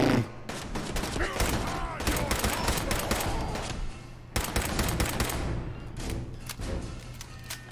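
Rapid pistol gunfire from Fallout 4 VR, loud and close, with repeated sharp shots in dense bursts across the whole stretch and only a short lull near the middle.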